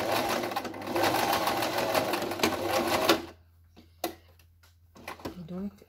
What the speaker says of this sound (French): la machine va avoir du mal parce qu'il y a toutes les épaisseurs